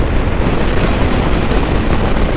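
A Royal Enfield Continental GT 650 motorcycle cruises at 82 mph around 5,300 RPM, producing a loud, steady roar of engine drone mixed with heavy wind rush and no talking.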